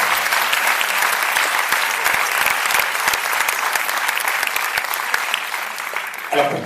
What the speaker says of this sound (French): Je vais vous demander de les applaudir